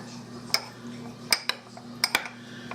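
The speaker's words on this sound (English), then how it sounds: "Only thing I'm going to do is stir this up" Spoon stirring an apple cobbler mixture with fruit in a dish, a few separate clinks and scrapes against the dish over a quiet background hum, close and fairly faint.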